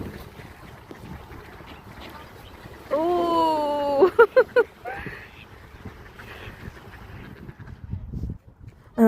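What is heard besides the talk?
ducks quacking by a lake in Finland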